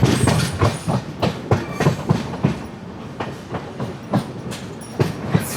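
The Netravati Express rolls into Anjani station with a steady run of rhythmic clickety-clack wheel beats over a rumbling carriage roar, close and loud.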